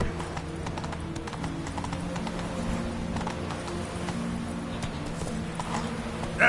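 Roach, a horse in The Witcher 3, trots along with a steady clip-clop of hooves, close and moderately loud, over a soft ambient bed with no talk.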